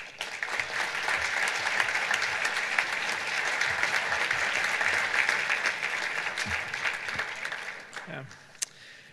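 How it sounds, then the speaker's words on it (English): Audience at an alumni awards reception applauding in a hall, a steady wash of clapping that holds for about eight seconds before fading out, with a brief voice at the very end. "Please join me in welcoming him with a round of applause."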